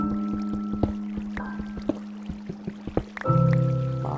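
Water in Minecraft 1.2.5 drips and trickles with scattered soft plops over a steady tonal game hum, ending in a louder gushing swell.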